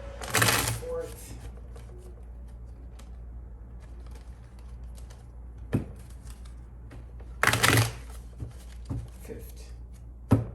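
Two bursts of tarot card shuffling, a riffle near the start and another later, with scattered soft taps and handling noises between them.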